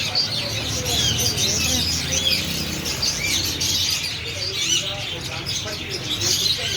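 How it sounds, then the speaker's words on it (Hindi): Pet parrots chirp and chatter constantly, with many overlapping shrill calls and tweets over a busy, noisy background. "तोते कितने प्यारे हैं।"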